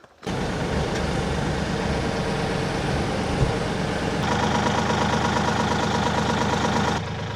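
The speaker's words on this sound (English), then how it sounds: "just need to move the tractor so that both these things are aligned" A farm tractor's engine idles steadily as it is repositioned to line up its PTO, a continuous low throbbing drone that shifts slightly in tone midway and stays close and loud throughout.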